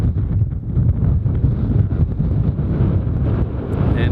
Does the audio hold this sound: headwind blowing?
yes